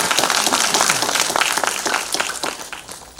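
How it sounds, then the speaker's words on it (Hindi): Steady applause from a conference audience at a direct selling conclave, many hands clapping densely and continuously, fading slightly toward the end. "आप अपने लिए भी तालियां बजा लो एक बार"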